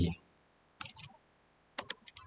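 Computer keyboard shortcut presses and mouse double-clicks while setting up a Fibonacci retracement tool in MT5 trading software, heard as two short clusters of close, crisp clicks separated by a pause, with a brief voice at the start.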